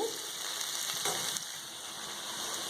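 Spinach sautéing in a pan for a home-style spinach kootu, giving a steady, close sizzle and soft frying crackle throughout with faint stirring, no voices.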